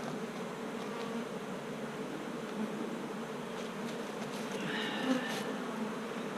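Honeybees buzz steadily and close by at an open beehive being worked, a dense continuous hum that swells slightly near the end.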